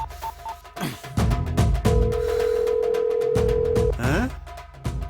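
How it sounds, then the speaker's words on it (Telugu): A phone ringback tone plays over a speakerphone as one steady sustained tone lasting about two seconds, set among film dialogue and background music, with people talking before and after it. "విను, రింగ్ అవుతుంది."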